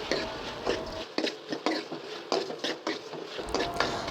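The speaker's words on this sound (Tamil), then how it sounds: "தக்காளி தனித்தனியாக தெரியாமல் நல்லா குலைவாக ஆகிற வரைக்கும் வதக்கிக்கணும்" Tomatoes sautéed and stirred in a pan for a curry, with a run of close, irregular clinks and scrapes of a spoon against the pan over a soft sizzle, no voices.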